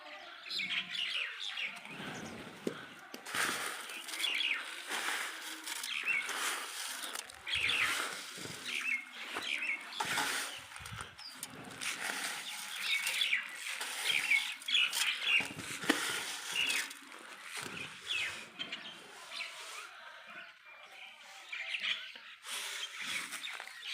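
Many small birds gather at scattered bird feed, chirping and tweeting continuously nearby, with soft rustling and fluttering mixed in throughout.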